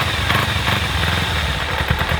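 A motorcycle engine, just fitted with cleaned carburetors, idles steadily close by to warm up, a continuous even rumble with no talking.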